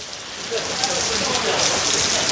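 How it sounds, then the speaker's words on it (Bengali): Rain pours steadily onto a wide pedestrian overbridge above a street in Singapore's Chinatown, a dense close hiss of drops spattering the surface. "বৃষ্টির মুহূর্ত এটা।"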